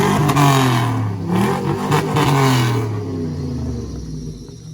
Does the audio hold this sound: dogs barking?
no